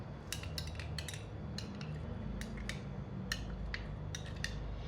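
Ingredients with half a lemon are mixed in a bowl, a spoon clinking and tapping in quick irregular bursts over a steady low background hum.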